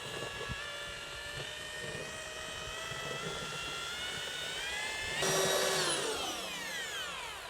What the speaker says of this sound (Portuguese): pode colocar a furadeira aqui dentro.